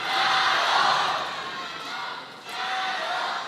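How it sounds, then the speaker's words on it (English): Arena crowd at a Men's World Cup table tennis match chanting for Ma Long, a broad sustained roar of many voices that dips briefly near the end and then swells again. "You have to imagine that having the crowd chanting for him adds a little bit more motivation."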